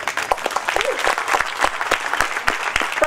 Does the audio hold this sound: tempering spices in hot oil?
no